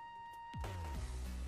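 Gunfire in the mobile shooter Modern Combat 5: a single sharp shot bursts in at mid-clip over a steady game-audio bed, followed by a dropping tone and a short rumbling tail.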